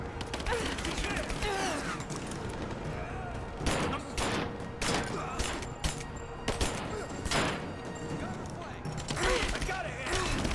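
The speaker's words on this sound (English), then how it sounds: "Give me covering fire." Rapid bursts of covering gunfire from a firefight in Rise of the Tomb Raider, loud repeated shots and volleys clustering in the second half over steady game noise, with talk running underneath.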